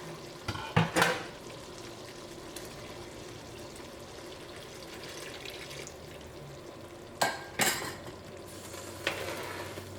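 Banana payasam being stirred with cardamom and cumin powder in a pot, with a few sharp clinks of the spoon against the pan near the start and again near the end over a soft continuous bubbling background.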